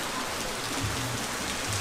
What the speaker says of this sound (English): and then it started raining like this